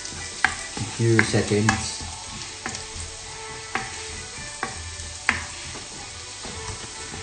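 Ingredients for chop suey are sautéed in a pan with vigorous stirring: rhythmic scrapes and clatters over a constant sizzle, with a brief voice.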